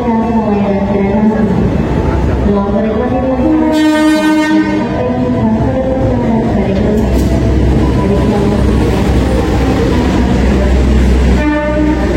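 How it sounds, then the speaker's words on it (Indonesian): The Madiun Jaya passenger train passes on an Indonesian railway, sounding loud, sustained horn blasts over a heavy, continuous rumble of rolling wheels close by. "kita lihat kereta api Madiun Jaya ya"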